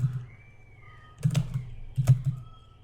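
Typing on a computer keyboard into a QuickBooks field, a few quick clicking keystrokes in two small bursts, close and moderately quiet, with no talk.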